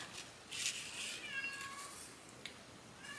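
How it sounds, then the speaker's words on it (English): A house cat meows at a door, faint and distant, a few short calls over a low background hiss. It is heard alone, with no speech. "And I apologize if you hear my cat in the background."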